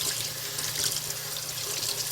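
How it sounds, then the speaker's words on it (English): Tap water runs steadily into a sink, splashing over black beans being rinsed, a close, continuous hiss with no talk. "And I just run the water over them until it turns clear."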